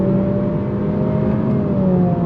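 A 2023 Acura Integra with a CVT accelerating steadily, its engine note a loud, continuous drone with gently rising tones and no clear breaks between the simulated gear shifts.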